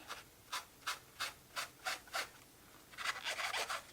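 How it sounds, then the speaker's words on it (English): A magic eraser scrubbing across paper in steady back-and-forth strokes, about six evenly spaced rasps, then a quicker flurry of rubbing. Close and fairly quiet. "This is a magic eraser."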